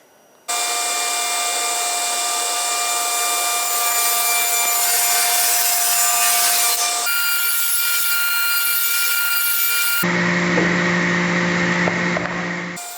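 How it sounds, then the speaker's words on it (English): A table saw with a sled cuts half-inch plywood, a loud continuous whine with a steady high-pitched tone that shifts pitch partway through and runs almost the entire time, no voices. "I start by cutting 4 6-inch pieces of 1/2-inch plywood on the"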